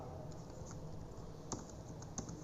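Typing on a computer keyboard while entering numbers into an Excel spreadsheet: soft, irregular key clicks close up, with a couple of sharper keystrokes standing out over a faint room hiss.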